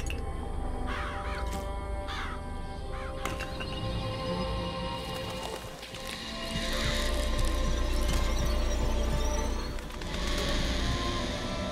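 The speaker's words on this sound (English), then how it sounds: "Do you think we're just got like a murder of crows following us wherever we go?" A murder of crows vigor in the video game BioShock Infinite sends a flock cawing and flapping over a dense game soundscape, the harsh calls rising and swelling in loud bursts throughout.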